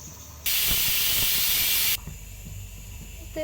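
A pressure cooker lets out a single loud, steady hissing whistle of steam for about a second and a half, then stops abruptly.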